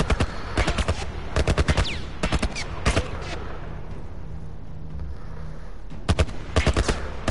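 Loud, close machine-gun fire in a video game, heard as several rapid bursts of sharp shots separated by short pauses, with a low rumble of tension underneath.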